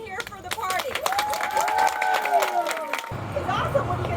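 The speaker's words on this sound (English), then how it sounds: "let's give yourselves a round of applause for being here for the party" Party audience applauding and cheering together, a dense burst of clapping and crowd noise that carries over other voices and sounds, then drops off sharply near the end.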